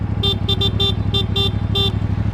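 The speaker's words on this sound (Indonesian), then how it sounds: "kayak klakson Matic" A thin, nasal horn on a CFMoto 450 CL-C motorcycle beeps in a series of short toots over a steady engine rumble, like a small scooter horn.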